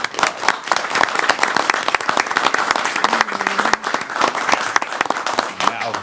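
A room of people at a town select board meeting breaks into a sustained round of applause, steady dense clapping close and loud throughout, with no talking over it.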